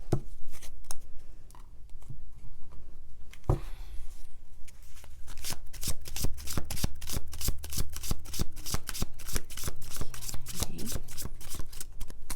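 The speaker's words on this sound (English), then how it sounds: "Now I'm going to pull a couple of cards for those of you who are in separation." Tarot cards are riffled and shuffled close up, a long run of quick crisp slaps and flutters that grows denser and more rhythmic midway, with a faint voice talking now and then beneath.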